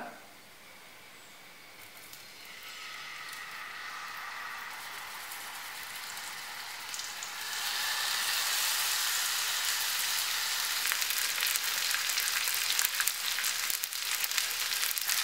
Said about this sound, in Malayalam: ഇനി നമുക്ക് മസാല പുരട്ടി വെച്ചിരിക്കുന്ന മീൻ ഇതിലേക്കിട്ട് ചെറുതായിട്ടൊന്ന് ഫ്രൈ ചെയ്തെടുക്കാം.